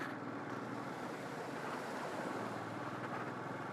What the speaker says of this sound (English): First water crossing.